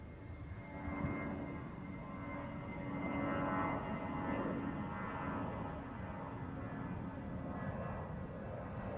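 A jet airliner departs Heathrow runway 09R, its engines a steady, distant roar that swells slightly and holds throughout, with quiet voices nearby.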